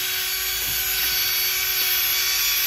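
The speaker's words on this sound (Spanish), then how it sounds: "Luego vamos a agarrar un taladro para pegarle una limpiadita." A drill runs steadily to clean brake parts on a Ford F150, giving a continuous loud whirring hiss with a constant tone and no clear pauses.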